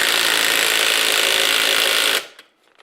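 A Ryobi impact wrench tightens a socket with a loud, continuous hammering buzz for about two seconds before it stops abruptly into near silence.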